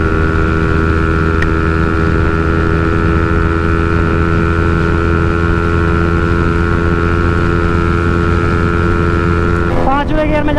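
KTM Duke 200 motorcycle accelerating hard in fifth gear during a drag race against a Yamaha XSR 155, a steady loud engine drone with strong harmonic whine and wind rush, rising in pitch near the end.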